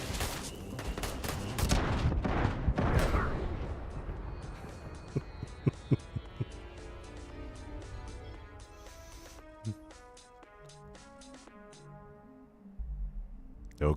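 Shotgun fire in the space game Starfield: a dense, loud cluster of blasts early on, then scattered single shots over sustained tonal music and ambient hum.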